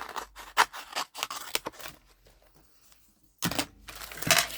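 Scissors cut through material in a quick burst of crisp snips, go quiet for about a second, then give a few more close, sharp cuts.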